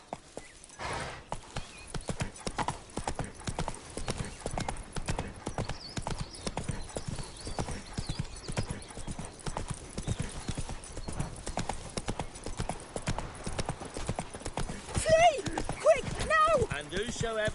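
Horse hooves galloping in The Witcher game, a fast steady clip-clop running throughout with a brief whinny, under ongoing speech and game dialogue.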